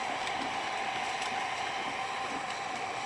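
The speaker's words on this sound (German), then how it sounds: "Der Motor dreht sich." Motor turning on a workshop machine, set to about 8 Hz, giving a steady, continuous whir with a mechanical hum and faint ticking, heard alone at moderate level.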